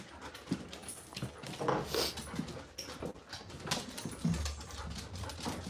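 Little dogs pant, snuffle and give faint whimpers amid scrabbling paws and rustling, close by in a noisy room.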